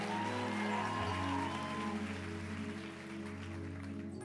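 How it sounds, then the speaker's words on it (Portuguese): Church congregation applauding louder during a service, a steady wash of clapping that carries through with some tonal music or hum underneath and no one speaking over it. "Aplaude mais forte."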